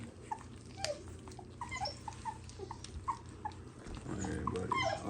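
American bully puppies about three weeks old whimper and yip repeatedly in short high cries, close by, over a low background rumble.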